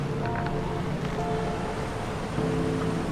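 Fast-flowing water rushes at a waterfall, a steady broadband roar that stays loud and unbroken throughout, with no voices.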